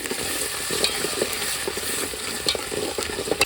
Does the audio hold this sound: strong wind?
no